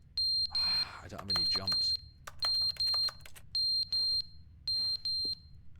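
Smoke alarm in the Stanley Parable: Ultra Deluxe video game giving repeated loud, high electronic beeps in short paired bursts, with someone talking over the first few.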